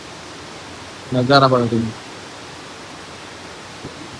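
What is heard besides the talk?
water flowing through a dam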